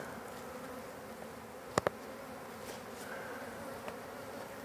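Honey bees buzzing inside a closed mite tester box during an alcohol wash for varroa mites, a faint steady hum with a couple of sharp knocks partway through.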